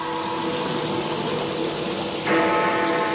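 A steady, ringing bell tone hangs over a dense wash of background noise, growing a bit louder and fuller toward the end.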